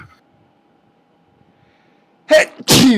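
After a quiet stretch with a faint steady hum, a person sneezes loudly and close by, a quick intake followed by an explosive burst; a short call comes before it.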